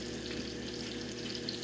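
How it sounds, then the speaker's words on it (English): Shallots fry in oil in a pan with a steady, close sizzle and crackle that runs continuously with no talk. "It's sizzling, but it's not burning."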